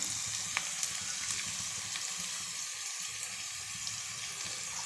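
Green chillies, grated ginger and garlic frying in a pan make a continuous, fairly quiet hiss of sizzling with a few faint clicks, and no voices.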